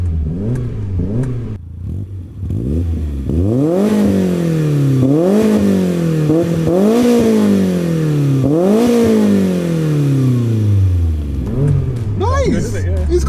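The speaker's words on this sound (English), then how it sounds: "Should we give it a little rev first?" A 90s performance car with a dogleg gearbox revs repeatedly, the engine note climbing and falling in several rising sweeps, loud and close, with people talking over and between the revs.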